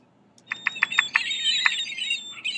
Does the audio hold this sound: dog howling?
no